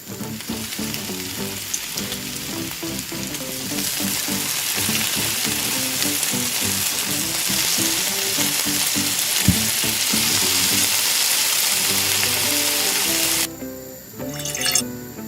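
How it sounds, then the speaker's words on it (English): Loud, continuous sizzling of oil heating in a small miniature frying pan, crackling steadily, with a brief lull and clatter near the end. "Heat oil in a small frying pan."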